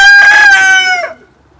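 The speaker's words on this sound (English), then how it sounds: "Crazy roosters." A rooster crows loudly and close by in a backyard pigeon loft, one long harmonic cock-a-doodle-doo call that holds steady, then falls and cuts off abruptly.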